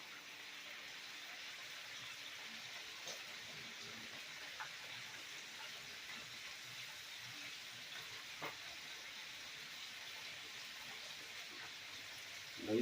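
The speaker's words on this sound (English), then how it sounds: "Now you just let that fry up" Chicken frying in a pot of grease gives a continuous, even sizzling hiss, soft and steady throughout with occasional small pops.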